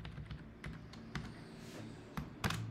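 Rapid close-up typing on a computer keyboard, irregular bursts of key clicks with a few heavier strokes near the end and no voices.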